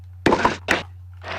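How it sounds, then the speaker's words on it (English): A drop shot in the International Tennis Open game on CD-I: a soft thunk followed by a second lighter hit, then a faint bounce, close and clean over a steady low hum. "I can do a drop shot here."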